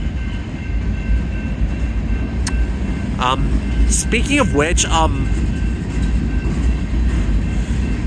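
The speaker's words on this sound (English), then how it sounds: "I think I hear a light rail." A light rail train passes a signalled street crossing, heard as a steady low rumble with brief high whistle-like squeals and horn-like tones in the middle, under continuous background noise while a person talks briefly.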